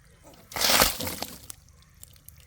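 Small fish dropped into water from a pond harvest, a short burst of splashing and sloshing that fades into a few faint drips and trickles, close by, with no talking.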